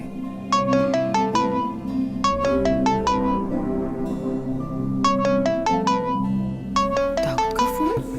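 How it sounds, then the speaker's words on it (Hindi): A melodic phone ringtone plays in repeated bursts of quick descending tones, loud and close, with short pauses between phrases. "सुबह किसका फोन आ गया?"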